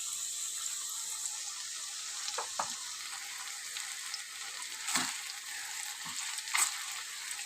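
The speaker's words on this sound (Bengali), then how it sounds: "এখন আমি দিয়ে দেবো পোস্ত বাটাটা।" Potato pieces sizzle steadily in a pan for aloo posto, with poppy seed paste being stirred in. A constant frying hiss runs throughout, broken by a few distinct spatula scrapes and knocks against the pan.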